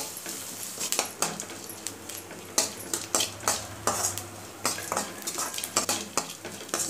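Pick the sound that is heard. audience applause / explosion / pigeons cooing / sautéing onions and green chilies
sautéing onions and green chilies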